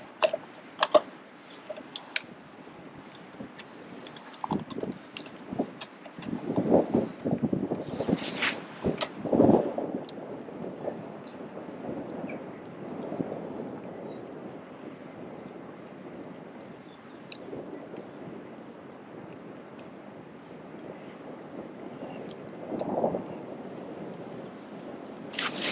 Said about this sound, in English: It's a little windy as well.